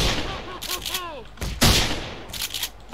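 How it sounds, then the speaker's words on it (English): Gunfire aimed at zombies in the Roblox game Jim's Computer 2: several sharp, loud shots and short bursts crack close by, with a player's voice talking over the start. "In this game where you just shoot zombie 24/7, you know?"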